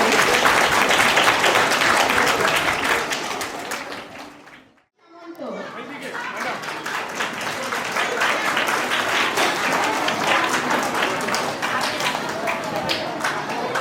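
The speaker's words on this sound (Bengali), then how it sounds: "আমাদের এই 5 জন স্টুডেন্টের জন্য একবার জোরে হাততালি চাইবো।" Loud, sustained applause from a crowd at a scholarship ceremony in the Sundarbans, briefly dropping to near silence before building back up into steady clapping.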